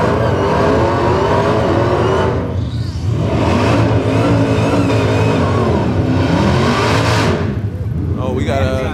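A supercharged Dodge Demon 170 and a Hellcat rev and accelerate at a drag strip, loud engine roars rising and surging in repeated pulls, close by, with a go-kart also running.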